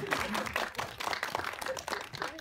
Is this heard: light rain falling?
no